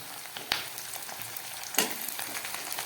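Onions, tomato pieces, ginger and garlic paste frying in a pan for Bengali aloo dum, giving a steady close sizzle with a couple of sharper stirring scrapes and spatters.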